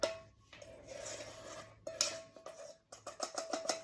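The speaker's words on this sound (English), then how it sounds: "Get my little scraper, my favorite bowl scraper. Scrape everything out into the counter." A bowl scraper pushes sourdough discard scone dough out of a bowl onto the counter, making soft scraping strokes and a quick run of light, close knocks and scrapes toward the end.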